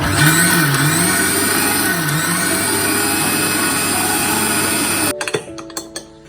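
A kitchen mixer grinder runs steadily, blending grated coconut with water for a homestyle beef curry, its loud, continuous whirring motor humming for about five seconds before it switches off and a few clattering knocks follow.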